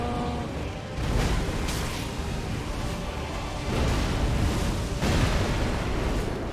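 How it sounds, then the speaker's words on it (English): Heavy cannon fire in Elden Ring, a dense roaring blast with rumbling booms that swell and repeat across several seconds, loud and close. "Okay, that was the cannon."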